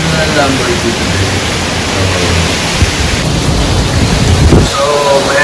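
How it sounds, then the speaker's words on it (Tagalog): Typhoon at signal number 2 in Boracay: steady roaring wind and heavy rain fill the whole stretch as a dense, continuous wash, with a brief louder gust near the end. "medyo malakas yung bagyo ngayon dito sa Boracay."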